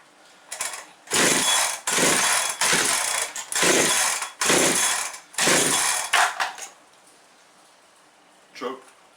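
A Farmertec Husqvarna 365/371 clone chainsaw engine is pull-started, giving about six loud rasping cranking bursts in a rough rhythm, close up, followed by a quieter clunk.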